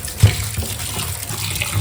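Raw chicken pieces, including leg pieces for curry, are rinsed under a running kitchen tap, a short close burst of splashing water with one sharper splash near the start.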